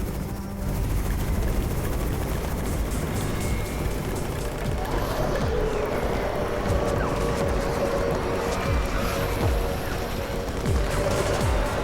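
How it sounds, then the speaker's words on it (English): A helicopter arrives over a besieged outpost in the zombie video game Undawn, its steady rotor roar loud and continuous throughout, mixed with scattered gunfire. "It's the Raven's chopper!"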